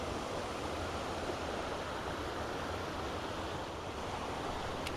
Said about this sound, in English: We're right along the river here